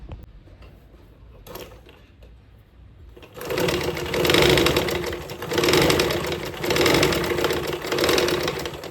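A domestic sewing machine stitches a leaf embroidery outline. Faint handling sounds come first, then a loud, steady, close mechanical whir with a rapid needle rhythm that runs to the end, rising and easing slightly.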